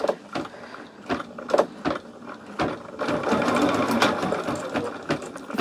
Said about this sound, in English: So now what I have to do is stitch the placement line